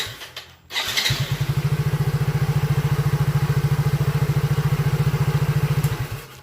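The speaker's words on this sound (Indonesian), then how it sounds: "Langsung starter." A Soul GT motorcycle's electric starter kicks the engine over. After a short cranking burst it catches, and a steady, close, loud idle follows with rapid even pulses.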